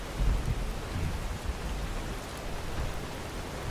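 Steady rainfall in the modded Fallout 4 Far Harbor game world, a dense hissing patter with low rumbling underneath, continuous and moderately quiet with no speech.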